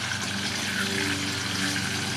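Running water rinses fish in a pan, a close, steady rushing flow that stays even throughout.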